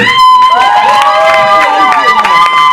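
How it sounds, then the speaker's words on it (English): A comedy show crowd in Columbus, Ohio cheers and claps for a performer: loud, close whooping and shouting voices dominate over a bed of applause, sustained throughout without pause. "How about a nice big round of applause for Danny Kerr?"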